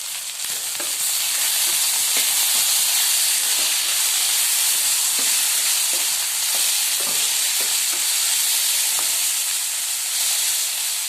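Chopped tomatoes fry in a pan of okra curry with a steady, loud sizzle and hiss, broken by light stirring clicks throughout, and no voices.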